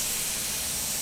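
A mist coolant system on an Avid CNC machine sprays continuously, a steady close broadband hiss with no breaks and no voices.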